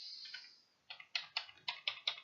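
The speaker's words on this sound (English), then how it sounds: "I'm typing and this is nothing" Typing on the keyboard of an HP 20-e014a All-in-One desktop PC: about seven crisp, separate key clicks in a quick, uneven rhythm, close and fairly quiet, following a brief fading tone.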